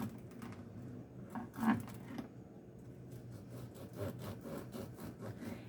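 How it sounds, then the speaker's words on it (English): A knife saws back and forth through a fresh homemade crusty loaf with a not very hard crust, producing quiet, rhythmic rasping strokes with faint crackles of crust. "Now I'm just going to go ahead and slice up a loaf of this bread."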